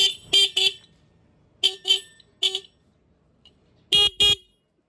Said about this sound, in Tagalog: Yan yung ating busina